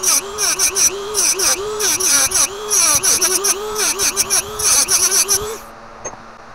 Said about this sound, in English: I'm just going to finish this cut with the Dremel